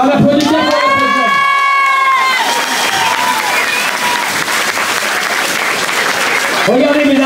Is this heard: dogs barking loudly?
no